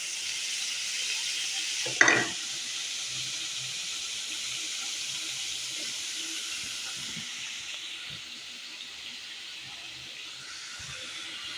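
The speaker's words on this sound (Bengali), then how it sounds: "কিছুক্ষণ নেড়ে চেড়ে আমি এগুলো দিয়ে দিয়েছি, শুটকিগুলো যেন গলে যায় ওই জন্য" Dried fish cooks in a pan with a soft, constant hiss and sizzle, one brief scrape of stirring near the start, then a low simmering bubble alone.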